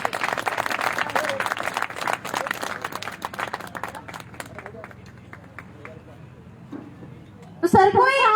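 Crowd applause at a grand opening celebration for a Phyto Atomy depot in Didwana, a dense burst of clapping that thins out over several seconds before a voice begins speaking near the end.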